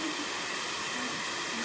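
A hair dryer blows steadily indoors, a loud continuous airy rush with no break over its short span.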